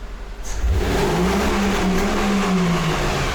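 A Mercedes V8 revving against a 3200 rpm limit, a steady, loud, close engine drone holding a rising then level pitch for several seconds, with no talking.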